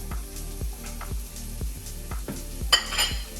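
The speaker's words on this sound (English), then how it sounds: "we have half a cup of chopped onions going in 1 skillet" Chopped onions fry in avocado oil in a skillet with a steady close sizzle, while a utensil stirs and scrapes the pan in a quick repeated rhythm, ending in a brighter clatter; no voices.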